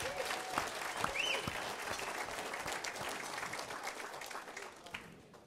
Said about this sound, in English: give a round of applause, please, for our speakers